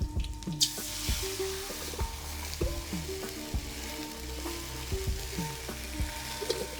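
Steady bubbling and hissing from a pot of water boiling on the heat for salt adai, close and continuous, with small pops and occasional clinks.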